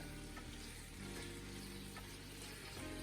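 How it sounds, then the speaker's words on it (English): Beef sizzles and fries with aromatics in a pot, cooked as the base of a Taiwanese beef noodle soup, giving a soft, steady crackle at low volume with faint stirring and no voices. "So now the beef is gonna go in with the aromatics."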